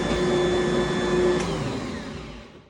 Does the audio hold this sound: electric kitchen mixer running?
yes